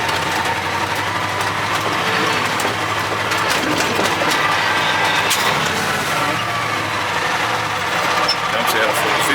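A Ford LNT 9000 truck with a Cummins 903 diesel runs steadily, its engine drone loud and continuous as it surges through gear changes, with voices talking over it.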